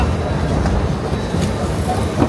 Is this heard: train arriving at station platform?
yes